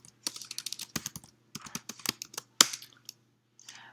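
Rapid clatter of typing on a computer keyboard while code is entered, close and clear, in uneven bursts of keystrokes with short pauses and one sharper, louder key hit near the end.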